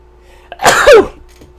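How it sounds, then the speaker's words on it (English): A single loud, close sneeze bursts out after a brief sharp intake of breath, then quiet returns. "I think I'm gonna sneeze"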